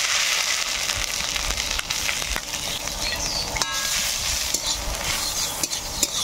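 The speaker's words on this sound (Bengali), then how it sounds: "আগে থেকে সেদ্ধ করা মানকচু দিয়ে দেবো এবার ঘির মধ্যে।" Pre-boiled giant taro (mankochu) frying in ghee in a hot wok, a steady, close sizzle with crackles and occasional stirring scrapes running throughout.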